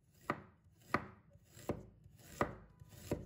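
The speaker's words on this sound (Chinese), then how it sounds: "把小葱切成葱段，把生姜切成片。" A knife chops scallions into lengths and slices fresh ginger on a cutting board, five sharp, evenly spaced strokes landing close and crisp in an otherwise quiet kitchen.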